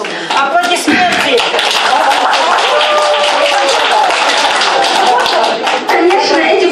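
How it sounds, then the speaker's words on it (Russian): Audience applauding at a corporate sales presentation: dense, loud clapping from a crowd that carries steadily throughout, with voices mixed in. "Аплодисменты!"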